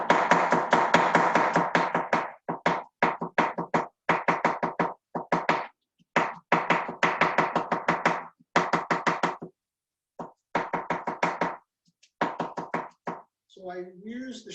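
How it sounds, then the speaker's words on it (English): A chef's knife chops an onion on a cutting board in fast, even bursts of sharp knocks, pausing briefly between runs, close and clear with no talk over it. "slice the onion in thirds, and I can chop"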